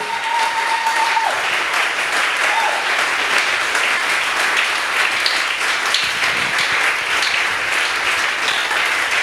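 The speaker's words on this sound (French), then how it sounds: "Est-ce qu'il y a une offrande d'acclamation Libonza ya kobeta maboko pour le Seigneur?" A church congregation claps hands in sustained, dense applause as an offering of praise to the Lord during a service, loud and continuous throughout with a faint voice briefly rising near the start.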